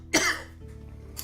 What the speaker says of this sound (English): This is me coughing.